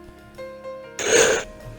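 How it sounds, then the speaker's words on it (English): A sudden, loud sneezing burst erupts from a person after a stretch of quiet, steady background hum, filling about half a second before the room settles back down. "Oh, machine gun sneezing."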